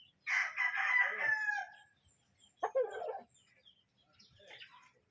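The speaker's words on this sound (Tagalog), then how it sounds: "So, mayroon tayo ng malaking manok dito." A large feather-footed rooster crows loudly nearby in one long call, then gives a shorter second crow and a few quieter clucks, with no talking.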